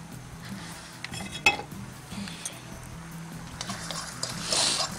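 A spoon stirs cumin seeds as they dry-roast in a pan, making soft, intermittent scraping and rattling over a faint background hiss, with one sharper clink.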